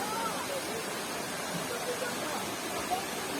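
Constant broadband rushing roar of a waterfall heard from the bottom of the falls at Mendelikha waterfall park in Rosa Khutor, steady and moderately loud throughout.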